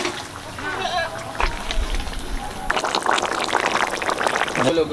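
Fish and eggplant dropped into a hot pan of oil in a home kitchen, with a sudden loud sizzle and crackle that continues steadily while people talk nearby.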